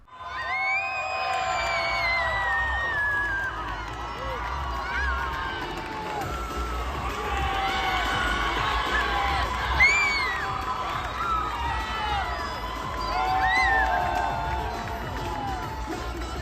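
At a cosplay contest, a crowd cheers and shouts for a Chainsaw Man Denji costume with moving chainsaws, sustained whoops and excited yelling, with children's voices among the lively babble throughout.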